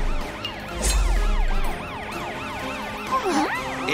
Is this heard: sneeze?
no